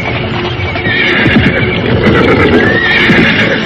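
A horse neighs and whinnies close by over steady clip-clop hooves and a constant rumbling background, as a horse pulling a cart suddenly halts on a village road.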